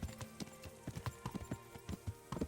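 Hooves of a ridden horse in Kingdom Come: Deliverance, a quick, steady clip-clop of muffled thuds close by, fairly faint, with a low steady background hum.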